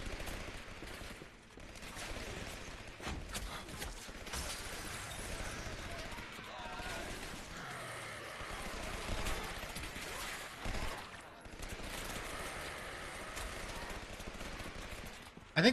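The player's gun fires repeatedly in the shooter Legendary, giving a continuous run of fairly quiet shots through the clip. A voice talks over the gunfire.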